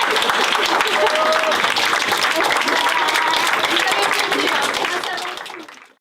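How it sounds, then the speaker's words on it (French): An audience claps at a pioneers art event, a dense, steady burst of applause with some crowd voices mixed in, tapering off and fading out over the final second. "tu restes là et on l'applaudit vite"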